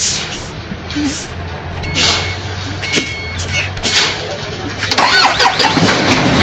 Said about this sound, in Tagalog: At ganyan titistingin ang buhay ng truck kung talagang gagana.